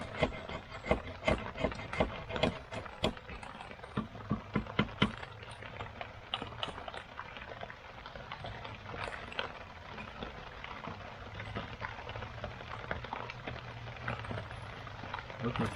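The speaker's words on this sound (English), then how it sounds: "I think you should be able to hear. It's raining" Rain falls steadily outside a cabin, a soft, constant patter with sharper drips and taps near the start, faint and even, with a low hum underneath.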